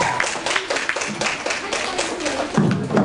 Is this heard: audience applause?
yes